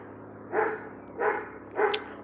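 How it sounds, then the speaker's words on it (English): A dog barks three times in a row, loud and spaced at fairly even intervals of under a second, with a low steady background hum between the barks. "man, that dog is loud over there."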